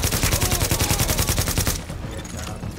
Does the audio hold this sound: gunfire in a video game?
yes